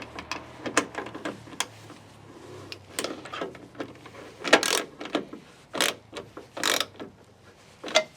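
A half-inch wrench or socket snugs down a bolt on a truck bed extender, with a series of close, sharp metallic ratcheting clicks and clanks in irregular bursts, separated by brief quiet gaps.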